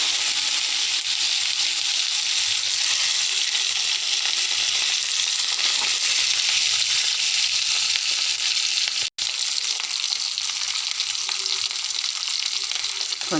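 Eggs fry in a pan with ginger garlic paste, giving a steady, close, even sizzle that holds for the whole stretch, with one very brief dropout near the end.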